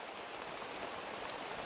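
Rain falls steadily outdoors as a dense, even hiss of drops with no pauses or distinct events, fairly faint and continuous throughout.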